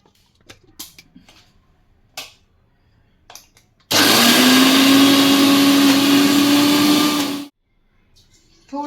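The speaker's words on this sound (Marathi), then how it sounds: "नंतर ग्राइंड करायचं" A mixer grinder whirs loudly for about four seconds with a rising whine, grinding soaked mung beans, garlic, chilli, ginger and cumin, then cuts off abruptly, surrounded by quieter clicks and handling noises.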